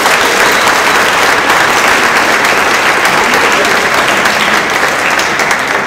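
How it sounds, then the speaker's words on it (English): An audience at a debate event claps, loud, dense and sustained applause from a crowd filling the whole span without pause. "So let's give them a round of applause."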